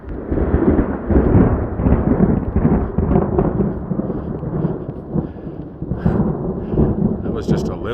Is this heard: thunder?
yes